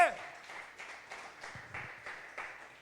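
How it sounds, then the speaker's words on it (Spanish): Faint, steady clapping from a church congregation during a Sunday morning service, a loose rhythmic patter of many hands held at low level throughout. "Dele un buen aplauso al Señor en esta mañana."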